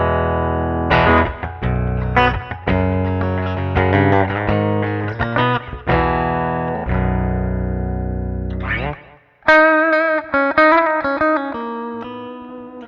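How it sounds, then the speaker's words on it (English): Electric guitar played through a stock Fender-style clean amp model in Studio One with slapback delay, a loud, bright, slightly gritty run of strummed chords and picked notes with short echoes, alone with no talk. "this is just the stock amp modeler inside of Studio One with a little bit of slapback delay"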